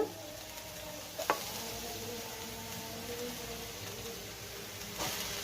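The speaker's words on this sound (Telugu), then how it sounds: "పన్నీరు ఉల్లిపాయలు టమాటా పచ్చిమిర్చి క్యాప్సికము క్యారెట్ కొంచెం ఫ్రై చేసుకుందాము" Paneer, onion, tomato, green chilli, capsicum and carrot fry in oil in a pan with a soft, steady sizzle and a few faint clinks, quiet and close.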